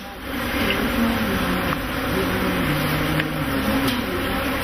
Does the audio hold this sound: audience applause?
no